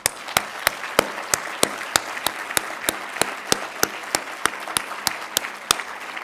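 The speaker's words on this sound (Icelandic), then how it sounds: "Eigum við ekki að klappa fyrir hana aftur." Sustained applause from a conference audience, with a steady run of sharp, evenly spaced claps over a continuous wash of hand-clapping, heard alone without talk.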